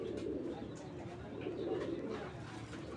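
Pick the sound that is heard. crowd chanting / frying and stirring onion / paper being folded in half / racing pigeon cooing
racing pigeon cooing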